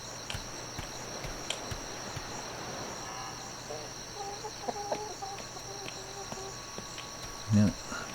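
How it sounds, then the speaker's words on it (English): A female chicken in the survival game Atlas clucks in a short run of soft, moderately close calls over constant cricket-like insect chirring, followed by a brief louder thump near the end. "Female chicken, might be an egg around somewhere."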